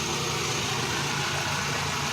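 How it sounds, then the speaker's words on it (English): A Porsche 924 Turbo engine idles steadily, a loud, close, continuous low rumble with even vibration throughout and no voices over it. "Engine idles very, very well."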